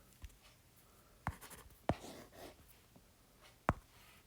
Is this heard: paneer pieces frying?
no